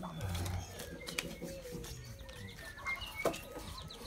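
A domestic pigeon sneezes after an herbal remedy is put into its nose, giving a couple of sharp, brief snorts over soft cooing and cage rustling nearby.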